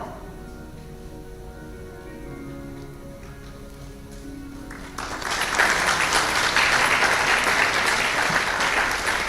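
A large audience breaks into a big round of applause at a hospital event, starting abruptly midway after a quieter stretch and continuing loud and dense to the end.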